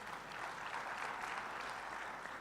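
Audience applause at an opening ceremony, a steady wash of clapping from a crowd, fairly faint and distant, continuing evenly throughout.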